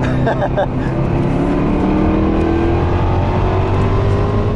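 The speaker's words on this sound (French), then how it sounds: "Et ce moteur il est très sympa, hein. Le V8 à compresseur." A supercharged V8 sports car engine revving hard while driving in a Paris rally, loud and close, a continuous roar whose pitch climbs steadily throughout.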